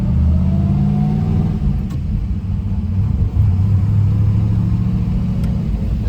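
A 1956 Chevrolet Bel Air with a three-speed column shift on a test drive, a loud, steady low engine rumble with road noise filling the cabin throughout.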